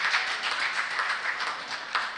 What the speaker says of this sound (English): Please, a round of applause for my Lord.